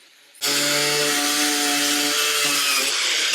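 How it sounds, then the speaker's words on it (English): Small grinder fitted with a steel bristle brush scouring a metal roof gutter, snapping on abruptly and then running loud and steady with a high whine and harsh scraping, close up and continuous. "Using a small grinder with a steel bristle brush is the best way to clean the metal"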